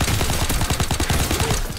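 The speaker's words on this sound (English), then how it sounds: "Closest gunfight in Call of Duty history" Rapid gunfire from a close-quarters Call of Duty: WW2 gunfight, dense overlapping shots in steady bursts, loud and continuous throughout with no voices.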